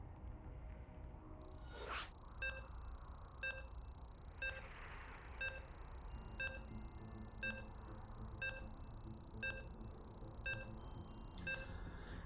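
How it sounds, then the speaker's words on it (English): A steady series of short electronic beeps from a StarCraft II match, about one per second, repeating evenly over a low background hum. "You can hear those beeps."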